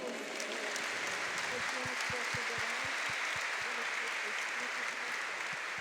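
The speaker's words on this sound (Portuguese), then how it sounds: "vamos aplaudi-lo?" An audience at a religious celebration applauds continuously, a dense, loud wash of clapping that holds steady throughout, with a low rhythmic thump under it.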